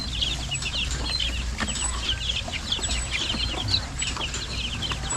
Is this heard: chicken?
yes